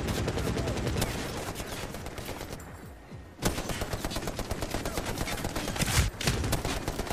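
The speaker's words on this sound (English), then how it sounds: "That guy's totally getting hammered with bullets." Sustained automatic gunfire pours into an enemy in the Medal of Honor: Warfighter campaign, a dense continuous stream of shots with a brief lull near the middle before the barrage resumes loud and close.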